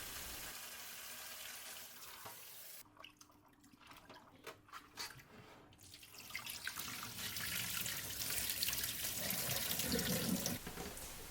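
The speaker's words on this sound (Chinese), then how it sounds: "开始清洗2次后沥干。" Napa cabbage rinsed in a sink under a running tap: a steady, close rush of water with splashing that softens briefly, then grows fuller and louder toward the end, with no talking.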